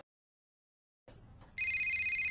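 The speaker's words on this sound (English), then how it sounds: "Oh my god, I'm getting a call." A telephone rings in a call center: after a brief silence a low hum starts, then a bright electronic ringtone trill kicks in loud and steady, with no one talking.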